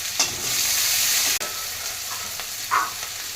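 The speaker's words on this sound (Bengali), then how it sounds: "তেল দিলাম, শুকনো লঙ্কা দিলাম, ফোড়নে ফোড়ন দিলাম, দুটো তেজপাতা দিলাম," Dried red chilies and two bay leaves tempering in hot oil for a pea and squash ghonto: a steady, bright sizzle and crackle with a couple of louder pops, close up, with no voices.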